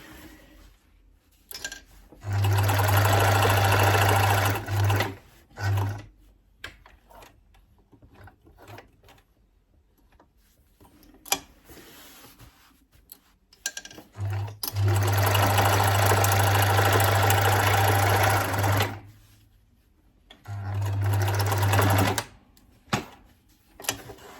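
A sewing machine stitches a denim skirt, running in three sustained bursts of steady motor hum with short pauses between, close and alone without talk.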